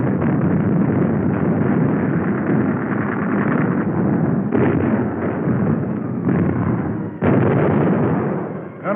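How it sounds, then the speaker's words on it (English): Naval ships' guns shell the Iwo Jima shore in a heavy 1945 barrage, a dense, continuous rumble of booming blasts and overlapping detonations, loud and unbroken, with a few sharper bursts standing out near the end. "Ships all up and down the line joined in the barrage."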